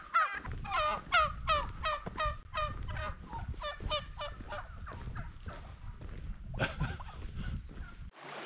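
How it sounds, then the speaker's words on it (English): A flock of turkeys gobbles repeatedly in quick, rattling bursts in the morning along a road in the Adirondacks, the calls overlapping at moderate distance, then trailing off into quieter gobbles. "Turkeys."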